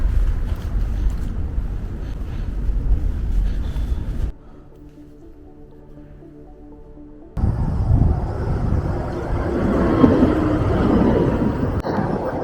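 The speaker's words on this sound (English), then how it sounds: "Oh, that wind!" Strong winter wind roars and buffets the microphone while bikepacking in southern France between Avignon and Marseille, a loud, steady rush that drops away for a few seconds in the middle before surging back.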